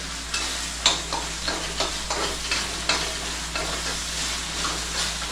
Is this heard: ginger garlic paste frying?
yes